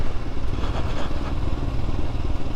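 A 2022 Royal Enfield Scram 411 with its 400cc single-cylinder engine runs close by, a steady, dense low-pitched throb that holds evenly at moderate loudness throughout.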